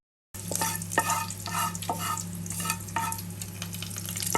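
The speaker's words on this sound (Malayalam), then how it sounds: "നമുക്കിതിലേക്ക് കടുക് ഇട്ട് കൊടുക്കാം" Mustard seeds, dried red chillies and curry leaves crackle in hot oil for a Kerala kootu curry tempering, a close, continuous sizzle punctuated by sharp popping spatters.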